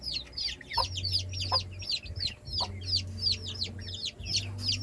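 A Limonite 7 crossbreed SBR mother hen clucks in short repeated bursts with some higher chirps, close and steady, over a low continuous hum in the background.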